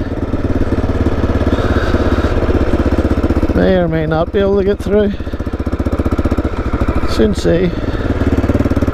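A 1996 Aprilia Pegaso 650 motorbike engine runs steadily and loudly up close throughout, a continuous low thrum with brief revving swells, while someone talks over it.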